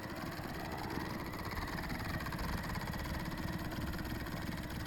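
A repaired Blade 450 3D RC helicopter runs with its gears not meshing, giving a steady, fairly faint mechanical whine and buzz that holds even for several seconds with no talk.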